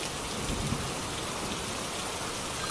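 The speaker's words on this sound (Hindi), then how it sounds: "और साथ में जोरदार बारिश।" Heavy rain pours steadily, a dense, even hiss of drops hitting surfaces with no voices.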